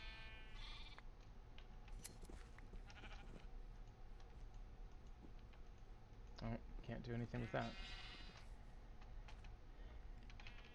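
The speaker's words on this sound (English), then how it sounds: "Oh, the sheep want some." Minecraft sheep bleat a few times in a modded Minecraft 1.12 game, short nasal calls bunched near the middle over game clicks and background music, while someone talks before and around them.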